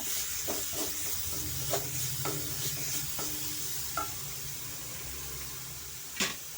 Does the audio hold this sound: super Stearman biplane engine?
no